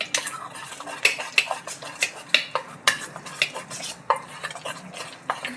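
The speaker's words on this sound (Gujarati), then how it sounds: "એક ચમચી જેટલું આપણે તેલ ઉમેરી દઈશું જેથી ઢોકળા આપણને સોફ્ટ લાગે. એને બરાબર મિક્સ કરી દઈશું." A spoon briskly stirs semolina dhokla batter with a spoonful of oil in a bowl, giving steady scraping clinks in a quick, repeated rhythm, close and clear with no talking.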